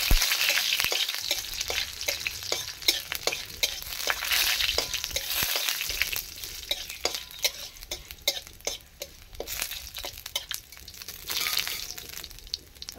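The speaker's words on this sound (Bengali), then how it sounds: "আগে এটা রসুনটা একটু ভাজা হোক।" Whole garlic cloves sizzle and crackle in hot oil, with frequent sharp pops and occasional stirring clinks against the pan.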